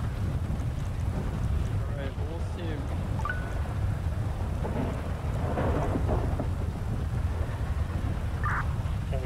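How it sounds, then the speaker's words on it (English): Thunder rumbles under steady rain in Grand Theft Auto V, with wind buffeting throughout and a voice speaking intermittently over the storm. "there's a lot of rain around here"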